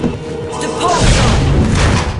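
A Depulso spell fires in the PC game Harry Potter and the Prisoner of Azkaban, landing as a loud, booming thud about a second in that rumbles and sustains to the end, with a voice heard beneath the effect.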